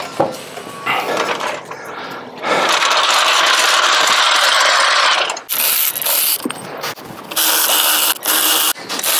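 Wheel spacer nuts being tightened on a Land Rover Discovery 3 with the wheel off the ground, loud close metallic ratcheting and clattering in sustained bursts with brief pauses between.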